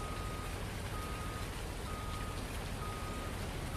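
Steady rain pours down in Farming Simulator 19, a dense, even hiss filling the scene without a break, close and constant with no voices over it.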